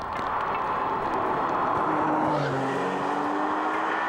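A Porsche 911 cabriolet engine revs and roars loudly and steadily, with a rising metallic whine and some tire squeal, no voices.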